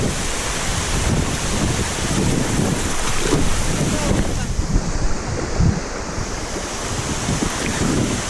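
Falling Spring Falls pours in a steady, loud roar of water, with gusts of wind buffeting the microphone throughout.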